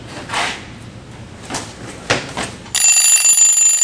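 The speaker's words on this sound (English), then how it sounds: "The faculty and student body are cursed with the constant ringing of the fire alarm." A school fire alarm starts ringing abruptly after a few scattered knocks and thuds, then keeps up a loud, steady, shrill ring.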